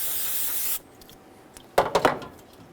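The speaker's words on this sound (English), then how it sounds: "Using some brake parts cleaner and a clean rag." Brake parts cleaner hisses from an aerosol can onto the corroded back of a Hyundai Sonata throttle body: one long steady spray up front, then three short sharp bursts, close and loud with no talk.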